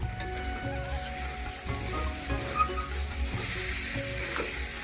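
Chicken kosha sizzles and fries in a pan, a steady dense crackle with spatula stirring scrapes recurring throughout, close and continuous with no talk.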